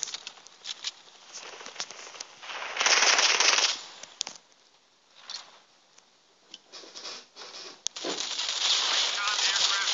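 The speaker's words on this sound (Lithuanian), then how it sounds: "Kažkas mane šaudo." Bursts of rapid video game gunfire crackle in short volleys, with louder stretches of shooting, while a person talks over the action.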